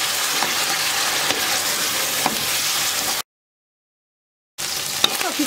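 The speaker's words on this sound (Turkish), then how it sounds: "Yağ ısındıktan sonra öncelikle tavukları biraz kızartacağım." Chicken pieces fry in hot oil in a pot, giving a loud, steady crackling sizzle that cuts out briefly and then resumes, with no talking.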